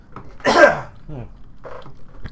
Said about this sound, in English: I just need to cough for a second